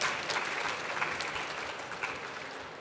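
Audience at a street food event in Lyon applauding a pastry chef guest, a dense, steady wash of clapping that tapers slightly, heard close with no talk over it.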